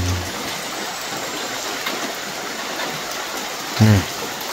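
Steady rain falls over a forest camp, a soft, even hiss that continues throughout, with a short voice heard briefly near the end.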